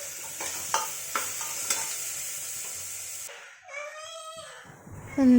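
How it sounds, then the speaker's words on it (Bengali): Chicken leg pieces sizzle in a pan while being stirred, with a few distinct scraping strokes over a steady fry for about three seconds before the frying drops away and a tonal, voice-like sound follows. "একটু নাড়িয়ে নি চিকেনটা নাড়িয়ে নি"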